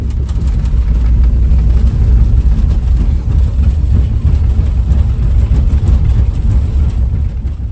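A Scania K410 double-decker bus drives along a Malaysian route from Kota Bharu, its heavy diesel engine giving a loud, continuous low rumble with road noise, heard from inside the bus without talk.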